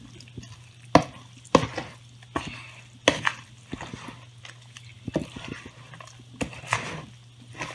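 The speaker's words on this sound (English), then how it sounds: "And just mix it till it's kind of really thoroughly mixed." Sweet potato oat bar batter mixed by hand in a bowl that is slightly too small: a series of irregular scraping and knocking strokes of a utensil against the bowl, close up, with a steady low hum underneath.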